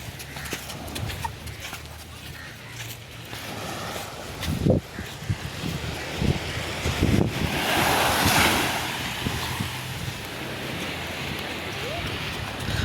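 Gentle evening surf washing onto a beach, low rolling waves breaking softly and steadily with wind buffeting the microphone; the wash swells louder midway through and a few sharp knocks are heard close by.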